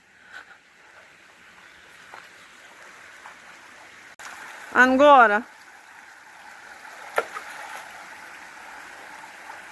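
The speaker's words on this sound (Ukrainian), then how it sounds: "Це зараз вода є тече, вчора дощ ішов." Faint, steady trickling of flowing stream water throughout, with a brief spoken word partway through and a few small knocks.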